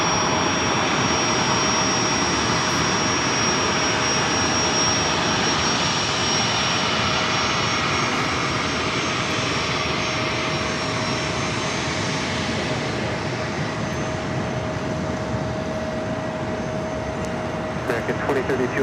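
A Gulfstream G280 business jet roars on an LAX runway, a loud sustained engine rush with a steady whine that fades slightly toward the end.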